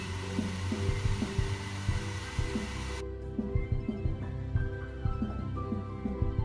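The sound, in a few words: heat tool drying weathering paste on tank road wheels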